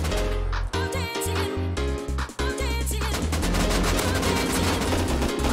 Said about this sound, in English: There's another bang.